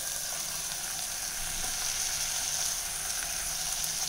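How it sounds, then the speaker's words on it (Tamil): Greens for a kuzhambu sizzle in a hot pan with oil and spices, a steady bright hiss of frying that holds evenly throughout, close and fairly quiet with no talking. "இந்த குழம்புக்கு தேவையான கீரையை நம்ம இப்போ போட்டுடலாம்"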